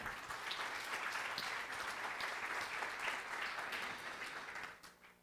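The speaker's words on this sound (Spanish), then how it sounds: "lo recibimos con un fuerte aplauso" A church congregation applauds to welcome a guest pastor from Buenos Aires, steady crowded clapping from a distance that holds for several seconds and then fades out.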